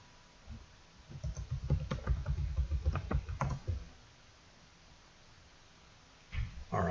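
A burst of quick, close keyboard typing sounds as a web address is entered, with dense clicks for about three seconds before going quiet. A couple of muffled thumps follow near the end.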